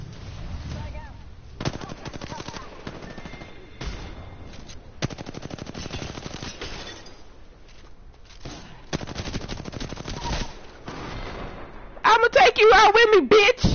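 Video game gunfire crackles in repeated rapid bursts, like automatic weapons, with short pauses between volleys and a denser, louder burst at the end. A voice talks faintly underneath.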